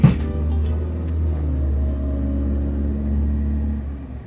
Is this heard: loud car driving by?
yes